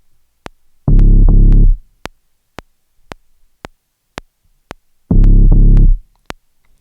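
A processed bass layer from an experimental sample, run through tape saturation and distortion, plays two deep, heavy bursts over a steady rhythm of sharp ticking clicks.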